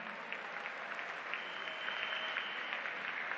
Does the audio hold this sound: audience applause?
yes